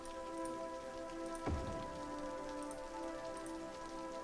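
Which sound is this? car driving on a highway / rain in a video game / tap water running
rain in a video game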